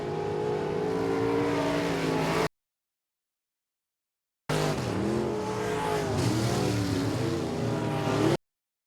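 Race cars roar down the back straight at Sabine Speedway on the final lap, loud engine drones rising and falling in two bursts with pitch sweeps as cars pass, separated by a silent gap.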